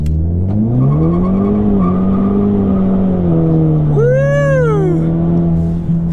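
An Ecoboost Mustang running E30 fuel launches hard from a standstill, its engine droning loud and steady as it revs and shifts, with rising squeals of the spinning tires near the end and a brief shout over it.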